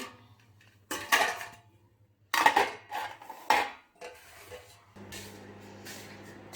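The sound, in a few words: covering and setting down containers of khichdi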